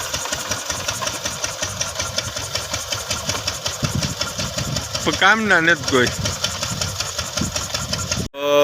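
Four-wheeler and motorcycle engines idle at a village gathering, a steady rumbling drone with people talking over it and a brief warbling tone midway.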